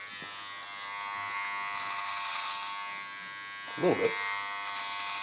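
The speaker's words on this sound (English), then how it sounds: "if you are looking for a decent beard trimmer that you can also take with you, it's rechargeable" A rechargeable Manscaped Beard Hedger beard trimmer buzzes steadily close by, with a brief louder rasp near the end as it cuts, under a man's speech.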